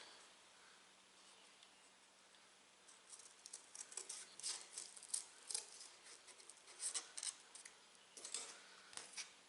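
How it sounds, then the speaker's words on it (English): Scissors cutting out a paper template, a run of quiet, crisp snips and rustles that grows busier in the second half with no talking. "And let's grab our scissors."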